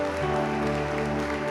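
A church congregation claps together during a service, steady broadband applause with a sustained organ or keyboard chord underneath, continuous and moderately loud throughout.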